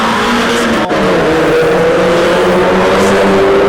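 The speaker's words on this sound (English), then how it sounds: "Into the first corner they go." Mazda MX-5 race cars of the BRSCC Clubman Championship roaring into the first corner at Croft circuit, a loud, continuous engine drone with shifting pitch as the pack passes close by.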